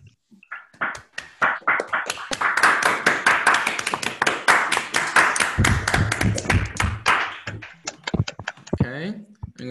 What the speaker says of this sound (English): I'm going to unmute everyone so we can clap.